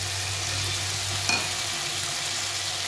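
Spice paste for a Bengali fish curry sizzles and crackles steadily in hot oil in a frying pan, a close, continuous frying hiss with a brief clatter of stirring midway and no voices.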